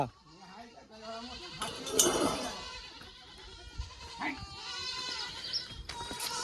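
Several running goats bleat repeatedly at varying distances, their cries overlapping, with rustling movement and occasional talk in the background.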